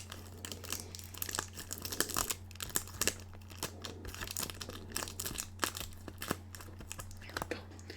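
Tape peels and crinkles off vape packaging in soft, close, rustling bursts over a steady low hum, quiet and intimate in an ASMR setting.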